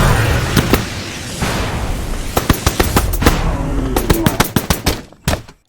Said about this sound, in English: these gunshots are very similar in terms of like the height of the transient compared to the rest of the mix